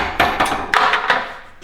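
Large bolt cutters clamped in a vise, worked with a cheater pipe to snap off bolt heads, giving several sharp, loud metallic cracks and clanks in quick succession that ring out briefly.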